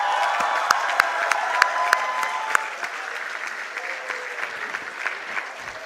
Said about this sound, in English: May I have a very big round of applause for our graduating stars?